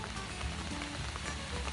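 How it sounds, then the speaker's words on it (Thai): Steady rainfall on a rooftop terrace at a mountain resort in Khao Kho, Phetchabun, a soft, even hiss of drops pattering on surfaces throughout, fairly quiet with no voices. "วันนี้ฝนตก"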